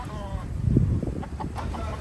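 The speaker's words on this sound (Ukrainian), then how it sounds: "Сюди по острову бігають маленькі ціплята з півнями, з курами." Small chickens and roosters running loose around the island town of Key West, giving a few clucks and short calls at moderate distance amid outdoor background noise and some faint voices.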